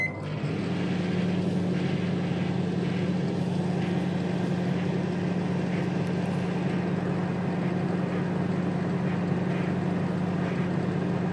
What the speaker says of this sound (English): This microwave, by the way, which I didn't mention last week, is an 800 watt one